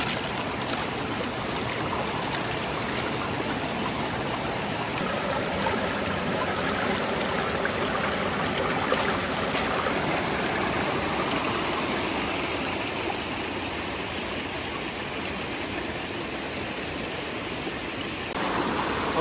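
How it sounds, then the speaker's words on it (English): Water runs steadily through a gold panning sluice box on an Alaskan river as dumped material washes over the mat, a continuous broad rushing flow with no break, close and fairly loud, with no talk. "We're gonna slowly dump this into the top of the sluice box, right where the little V pan is, and let it all run through."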